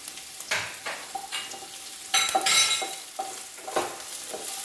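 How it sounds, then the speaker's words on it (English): Onions fry in a pan for a spiced okra dish, giving a steady sizzle broken by scraping stirs and light clinks of a utensil against the metal, close and clear with no talk. "This onion has to fry."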